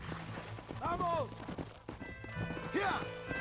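Horses in the Red Dead Redemption video game clop steadily while riders shout and a horse whinnies twice, hoofbeats running under loud talk throughout.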